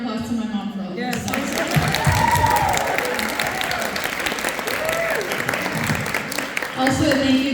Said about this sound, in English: we didn't really give a full round of applause to my mom for all of this